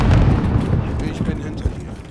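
A grenade blast in the Call of Duty Modern Warfare video game lands as a loud, sustained low rumble and boom, with further thuds in the mix and a voice speaking over the top.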